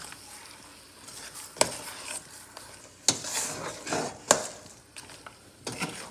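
Chicken curry with tomato and onion being stirred in a pan, with a soft steady sizzle broken by several sharp scrapes and clinks of the spoon against the pan.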